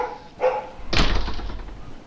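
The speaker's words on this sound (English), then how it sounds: "I can still hear my dog barking." A dog barks indoors behind a closed door, one muffled bark followed by a louder, longer burst with a ringing tail, heard alone without talk.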